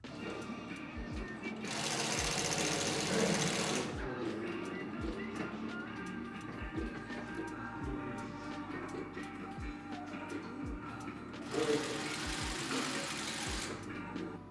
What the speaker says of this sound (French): on va faire les piqûres à la main ou à la machine